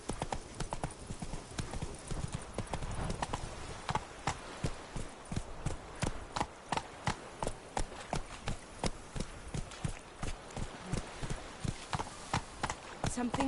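Horse hooves clip-clop in steady galloping rhythm in The Witcher 3, loud and close throughout, with brief voice and game ambience mixed in.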